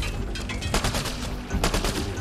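Sniper rifle fire in the video game Mass Effect: Andromeda: a brief flurry of loud, sharp gunshot cracks with a second burst of shots near the end, over a dense game soundscape.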